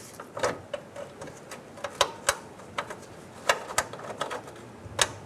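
Bolt being threaded into the harmonic balancer of a 1997-2006 Jeep Wrangler, heard as a string of small metallic ticks and clicks at an irregular pace, close and fairly quiet.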